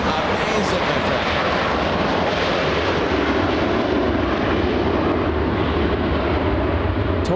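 An airliner comes in to land at LAX with a loud, sustained broadband engine roar that fills the whole stretch close by. A voice speaks beneath the noise.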